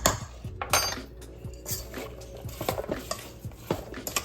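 Apples being mixed with lemon juice and a tablespoon of flour in a bowl, heard as repeated close scraping and clinking of a utensil against the bowl in an uneven rhythm, with no talking.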